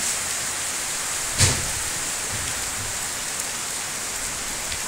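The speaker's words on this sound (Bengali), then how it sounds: "বৃষ্টি হচ্ছে প্রচুর পরিমাণ বাইরে।" Heavy rain pours outdoors at the Cumilla cantonment in Bangladesh, a dense, steady broadband roar with one brief sharp knock early on and no speech.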